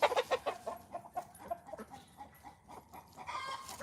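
Backyard chickens cluck loudly after one lays an egg, a quick burst of sharp squawks up close that settles into quieter intermittent clucking with light rustling.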